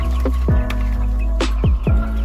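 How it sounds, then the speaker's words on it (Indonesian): A few short clucks from breeding hens close by, scattered over a steady low hum, with brief bird calls between them. "ini ayam-ayam saya"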